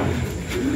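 A checkered racing pigeon coos softly and continuously at the loft as it returns from a race, a low murmuring call close by.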